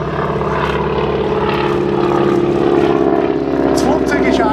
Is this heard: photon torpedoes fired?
no